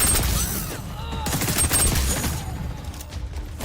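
Assault rifle gunfire in the shooter video game XDefiant, a dense burst of rapid overlapping shots with reverberant crackle, loud and continuous throughout.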